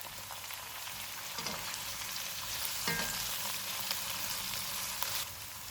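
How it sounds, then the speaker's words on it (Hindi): Tomato and green chillies frying in oil with ginger-garlic paste for fish pulao, a steady close sizzle with crackling throughout, a few soft stirring scrapes and light pops, no speech. "इनको 1 मिनट तक भूनेंगे। एक टमाटर डालेंगे, 4 सब्ज़ मिर्चें,"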